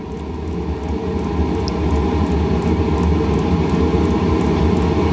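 An HCalory 8KW portable diesel heater, fuelled with diesel, runs with a steady, dense roar throughout, a constant blower hum with faint repeated ticks of its fuel pump audible over it.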